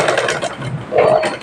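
A sewing machine stitching round practice circles runs in a brief continuous whirring burst, close and fairly loud, with slight rises and dips in speed.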